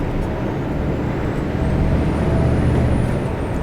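A 2014 Scania R 520 V8 truck drives along, its engine giving a steady, dense, loud rumble with broadband road and cab noise throughout, heard from inside with no talking.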